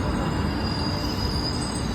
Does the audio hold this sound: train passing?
yes